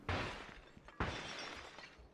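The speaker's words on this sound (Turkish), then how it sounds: "Cam kırıyor." Glass shattering in a video game, two sharp crashes about a second apart, each trailing off, faint and heard alone.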